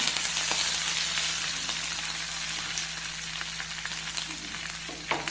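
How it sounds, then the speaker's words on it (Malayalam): Curry leaves and dried red chillies sizzle in hot oil while tempering a tapioca dish, a bright, continuous close crackle with scattered small pops that eases slightly toward the end. "അടുത്തതായിട്ട് ഇട്ട് കൊടുക്കാം കറിവേപ്പില."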